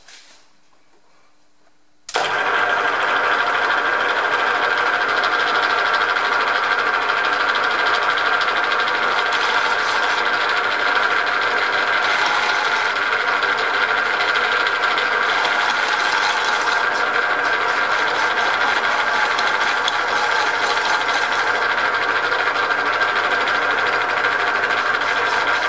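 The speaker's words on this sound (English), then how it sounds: "Might pay if I actually turn the lathe on." A lathe switched on after a moment of near silence starts abruptly and runs steadily, giving a loud, continuous mechanical whir and hum with a faint ratcheting clatter that holds at the same level throughout.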